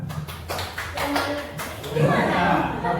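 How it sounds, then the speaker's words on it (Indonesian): Group clapping game called tepuk semangat at a teachers' positive-discipline session: several sharp claps in a quick rhythmic pattern, with voices chanting and talking around them. "tepuk semangat."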